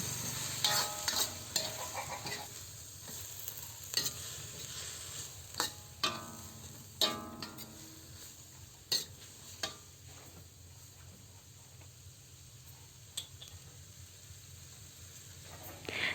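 Spatula stirring pancit canton noodles with sliced carrots and cabbage in a hot pan, with clattering scrapes, taps and steady sizzling throughout, close and fairly quiet.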